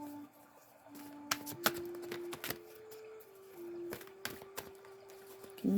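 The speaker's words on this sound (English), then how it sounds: "Shuffling the cards here." Tarot cards are shuffled close by in soft, irregular bursts of crisp riffling and slapping, with a faint tonal hum beneath and quiet pauses between.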